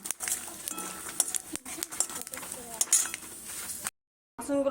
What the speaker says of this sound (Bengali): আমি বাসনগুলো ধুয়ে নিই